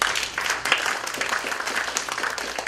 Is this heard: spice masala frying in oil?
no